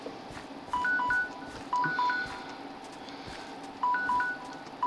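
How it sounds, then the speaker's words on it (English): A phone alarm repeats a two-tone electronic beep pattern in short bursts, about a second each, at a moderate level against quiet background. "I can't turn off my alarm."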